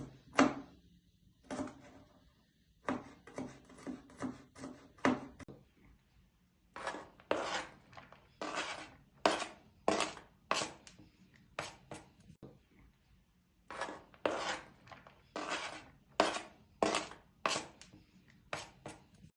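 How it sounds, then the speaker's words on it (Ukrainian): A knife finely chopping garlic taps rapidly against a cutting board in quick bursts of crisp chops, pausing briefly between runs. "Тепер нарізаємо часник дрібненько."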